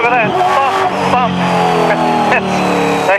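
A 650-horsepower race car engine driving, a loud revving roar with rising and falling pitch sweeps as gears change, heard close with someone talking over it.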